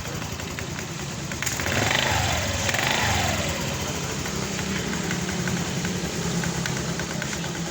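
A Honda Click 125 scooter engine with a newly replaced torque drive bearing runs steadily at idle, a continuous mid-pitched hum with a brief rising rev near the start.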